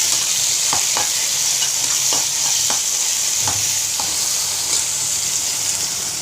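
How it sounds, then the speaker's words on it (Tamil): Small tomatoes dropped onto onions frying in hot oil, a loud, dense, steady sizzle with a few light taps and scrapes of stirring close up, no voices. "இந்த ஸ்டேஜில் நம்ம தக்காளி எடுத்து போட்டுருவோம்"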